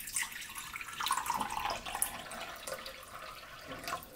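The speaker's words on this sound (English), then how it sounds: "So I'm going to do 100 milliliters of the fixer and then fill it up to 400 of water" Water running and splashing into a container while diluting film fixer for home black-and-white development, a close, continuous trickling pour with no talk.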